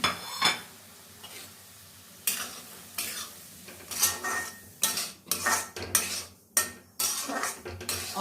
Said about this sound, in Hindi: और इसे तब तक भूनेंगे जब तक कि ये अच्छा गुलाबी ना हो जाए।